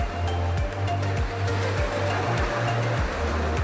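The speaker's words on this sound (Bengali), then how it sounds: "কত প্রেসারেই না এই ঢেউ দিচ্ছে।" Sea waves break and surge onto the sand at Bakkhali beach, a steady loud roar of surf with repeated low rushing swells and no voices.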